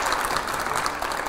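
A crowd applauds at a televised interview event, with dense, sustained clapping at an even level for a brief stretch.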